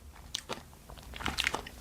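Crunchy Nerds candy chewed close to the mouth, a quick run of small crisp crunches and bites, fairly faint.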